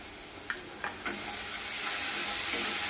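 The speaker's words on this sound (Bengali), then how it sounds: "বিলাতিটা আমি ভেজে নিয়েছি, এবার আমি মশলা দিব" Fried tomato sizzles in a pan with ginger, garlic and mustard paste. A close, steady frying hiss is broken by a few light stirring knocks near the start.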